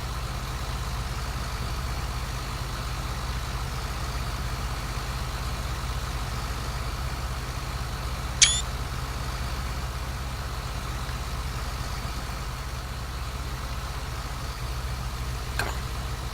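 A combine harvester engine in the video game Farming Simulator 2017 drones at a steady idle for the whole stretch, low and unchanging, with a couple of faint brief clicks.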